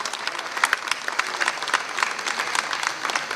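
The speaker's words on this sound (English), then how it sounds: "Can we give the round of applause," A room full of people applauds at a digital transformation roadmap unveiling, brisk crisp clapping filling the whole stretch at an even level with no talk.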